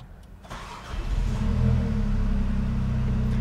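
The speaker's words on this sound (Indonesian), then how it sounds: "ini aku nyalain dulu mesinnya" A MINI Frozen Brass Edition car engine cranks and catches after a brief whir, settling into a steady, close, low idle rumble with no talk over it.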